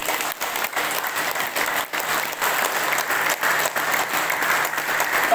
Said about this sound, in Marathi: असे आपले हा टाळी प्रयोग.